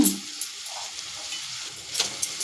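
Carrot fries in ghee in a pan, a soft, fairly quiet sizzle with a few light clinks and stirring taps, including a short cluster near the end.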